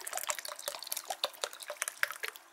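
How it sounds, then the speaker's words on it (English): Water is poured into a bowl of oats for protein oatmeal, a close, uneven splashing trickle with bright drips that runs steadily throughout, with no talking. "Pour in water until all of the oats are underwater"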